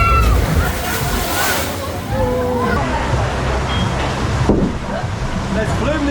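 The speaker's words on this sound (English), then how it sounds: "That's the landing bit there, and the splashes come over to the bottom of the steps." Water splashes and sloshes steadily at the landing pool of a log flume ride at an amusement park, with a busy crowd murmuring and chattering in the background throughout.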